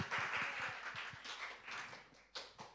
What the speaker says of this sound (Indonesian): kasih tepuk tangannya ya buat Wilson